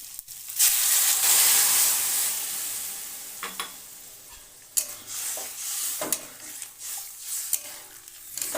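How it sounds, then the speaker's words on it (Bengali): Hot water is poured into a spiced koi fish masala in a pan, and a loud, broad hiss and sizzle follows, with stirring scrapes and a few clinks as it comes to a boil. "এবার এতে দিয়ে দেবো গরম জল"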